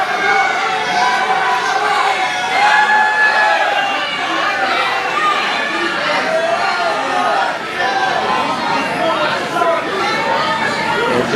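Arena crowd at an Emerge Wrestling heavyweight championship show gives a loud, sustained ovation for the champion, with steady chatter, cheering and shouting from a packed audience throughout.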